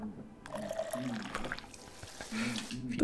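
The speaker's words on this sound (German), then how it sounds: "Gieße die Blume." Water trickling and splashing onto a flower in the video game 12 Minutes, a steady pour of a few seconds with people talking over it.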